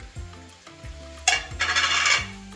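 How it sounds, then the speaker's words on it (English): Peppers and onions sizzle and hiss loudly in a cast iron skillet as the peppers go in, with a few metallic stirs and scrapes early on and a bright frying burst in the second half. "Now that we got the onions going, we're gonna take the peppers, drop them in."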